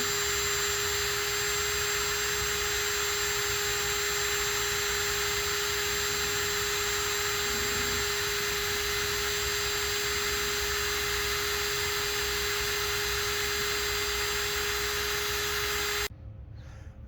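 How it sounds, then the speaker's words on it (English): A drill-driven pump draws dirty oil out of a Glastron Carlson CVX-16 boat engine, giving a loud, steady whirring hum with a constant high whine that runs unbroken for about sixteen seconds before cutting off. "this drill pump worked. It sucked it out as advertised"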